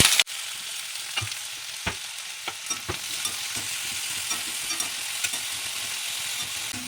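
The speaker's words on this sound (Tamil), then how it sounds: "முதல்ல இந்த பிரண்டையை மட்டும் போட்டு வதக்கிக்கலாம்." Pirandai (adamant creeper) frying in hot oil for a chutney, a steady close sizzle with occasional stirring clicks and scrapes, no talking.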